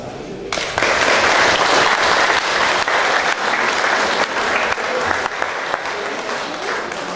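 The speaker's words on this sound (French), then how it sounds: "je crois qu'ils méritent nos applaudissements" An audience applauds the volunteers at a Champagne-Ardenne road race ceremony between Châlons-en-Champagne and Sedan: loud, sustained clapping that starts abruptly and holds steady for several seconds, with no speech over it.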